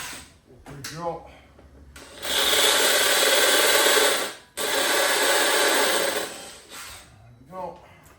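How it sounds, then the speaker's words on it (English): A power drill bores into wood for a workshop layout table in two long, loud, sustained whirring bursts with a short break between, framed by brief speech before and after. "Drill."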